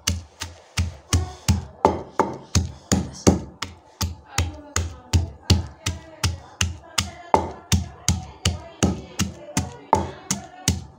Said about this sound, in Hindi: लहसुन अदरक को हम अच्छी तरह से पीस लेंगे